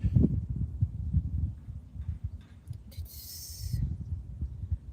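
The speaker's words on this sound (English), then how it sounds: "thank you for the heartbeat" A heartbeat sound effect fired by a livestream donation alert, soft low thumps in a loose repeating rhythm, fairly quiet, with a short bright electronic chime partway through.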